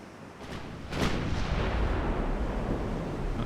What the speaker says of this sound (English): We're definitely only firing the stern guns